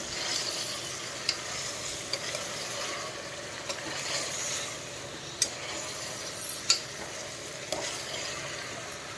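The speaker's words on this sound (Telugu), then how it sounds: "వీటిని మనం కలుపుకుందాం కింద మీద మొత్తం కలుపుకోవాలి" Broad beans and onions stirred in a frying pan, a soft steady sizzle with occasional sharp clicks and scrapes of the spatula against the pan, fairly quiet and with no voices.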